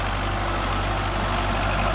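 A Belarus 510 tractor engine idling nearby, a steady low diesel rumble with a constant drone throughout and no voices.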